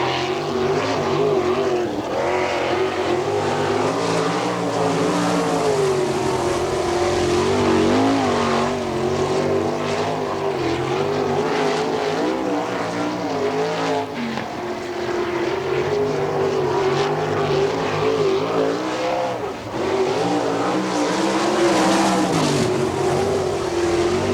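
Sprint car on a qualifying lap at the All Star Circuit of Champions round in Findlay, Ohio, 1998, its engine roaring loud and steady with wavering pitch throughout, no talk.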